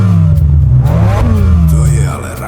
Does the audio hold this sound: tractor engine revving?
yes